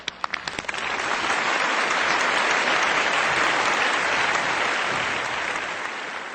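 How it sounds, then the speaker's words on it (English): Warm audience applause for a mayor at a pro-environment event, a few sharp claps first, then dense steady clapping that fills the hall before easing slightly at the end. "So let's give her a warm round of applause."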